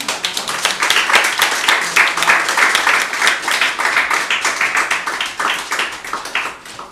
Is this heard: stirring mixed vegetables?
no